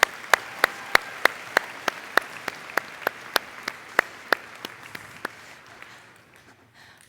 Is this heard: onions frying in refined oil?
no